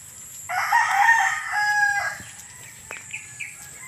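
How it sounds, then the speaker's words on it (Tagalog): Chickens and a rooster perch in a mango tree with chicks nearby; a rooster crows once loudly and close, then brief clucks and chirps follow over a faint background of other birds. "Pakita ko sa inyo yung aking mga manok"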